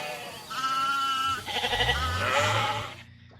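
Sheep bleat repeatedly outdoors, drawn-out wavering cries overlapping one another at close range with a low rumble of wind beneath, fading out at the end.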